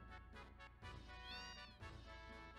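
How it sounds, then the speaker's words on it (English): Cats meowing in the Final Fantasy VII video game, a run of close, loud, overlapping meows with rising and falling pitch over a steady low musical background. "Do I hear kitties? Kitties! Hi, kitties!"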